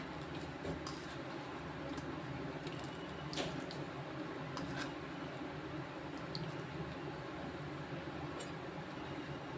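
Wet squishing and soft dripping as soaked manathakkali (black nightshade) greens are squeezed by hand for soup, steady and close, with faint clicks and drips throughout and no talking.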